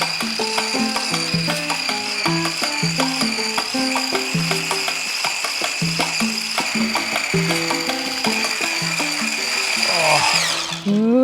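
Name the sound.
electric whisk whipping homemade moisturiser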